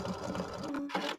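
An embroidery machine sews decorative stitches around an appliqué twig, a close, steady run of fast mechanical stitching that cuts off abruptly near the end.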